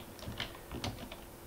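Fingers type JavaScript code on a computer keyboard in a short, close run of soft key clicks, a few distinct taps over a steady background hiss, with no voice.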